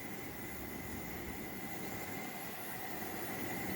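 Two heater burners roar steadily after their air tubes were cleaned, a smooth, even broadband rush with a faint high whine and no chuffing or pulsing.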